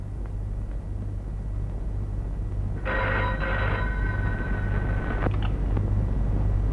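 A telephone rings in a Tamil horror film: one electronic ringing burst of about two and a half seconds, clear and mid-loud over a steady low background hum.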